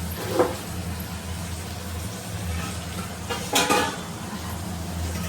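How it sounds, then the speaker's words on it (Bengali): A metal lid set onto a cooking pot of simmering fish (lote/Bombay duck), giving a clear clatter with a small earlier knock, over a steady low hum of kitchen background. "এরপরে একটা ঢাকনা দিতে হবে।"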